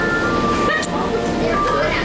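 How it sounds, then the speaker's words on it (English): Epcot Canada pavilion music plays over the speakers of a Disney bus, a continuous loud melodic tune with engine rumble underneath. "You walk on and it's playing the Canada music."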